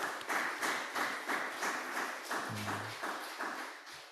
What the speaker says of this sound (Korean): 우리 축하의 박수 드렸으면 좋겠습니다